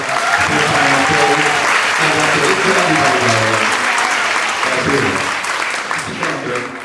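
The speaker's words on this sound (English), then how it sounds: "everybody just make some noise and give him a giant round of applause." Audience applause with cheering at a business masterclass session in Orlando, a dense, loud, sustained roar of clapping and crowd noise that holds steady across the whole stretch, tapering slightly near the end.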